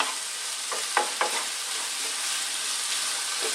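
Potato samosa filling fries in a pan over medium heat, giving a steady soft sizzle broken by a few scraping stirs early on. No one speaks.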